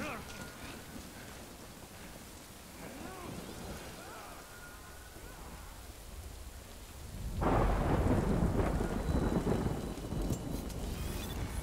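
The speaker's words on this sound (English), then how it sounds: "好嘞，又下雨。" Rain and thunder in a video game: a steady wash of rain with rumbling thunder that swells into a loud, heavy downpour partway through, with a voice speaking.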